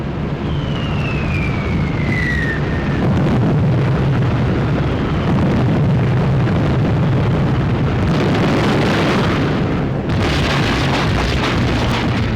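Wartime bombing explosions from a newsreel of the Battle of Mareth Line in Tunisia, a loud, sustained rumble of blasts with aircraft engines droning overhead and a descending whistle early on.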